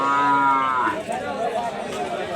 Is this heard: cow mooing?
yes